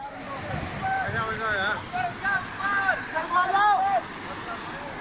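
Floodwater in the Uttarakhand floods rushing strongly, a broad roaring wash that runs throughout, with voices calling over it.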